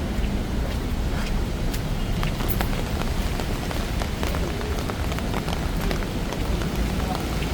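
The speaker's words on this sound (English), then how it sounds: "There's still a little bit of a drizzle." Light drizzle pattering on a Bangkok street at night during the rainy season, a dense, steady hiss of fine drops with scattered tiny ticks, fairly close and continuous.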